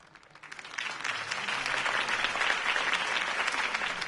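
A crowd applauds after a campaign speech in the Batman Telltale video game, the clapping swelling from a quiet start into a full, sustained ovation.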